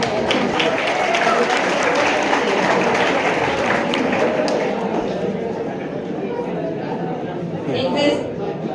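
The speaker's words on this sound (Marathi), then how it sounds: "पहिल्यांदा टाळ्या वाजवा पाहिजे" Audience at a school annual gathering and prize-giving ceremony breaks into dense, sustained clapping that fills the room and slowly thins out toward the end.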